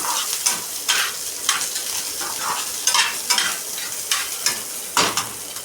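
Onion browning in a pan for a drumstick (shevga) masala curry, with a constant soft sizzle and repeated bursts of spatula stirring and scraping at irregular intervals, with no voices.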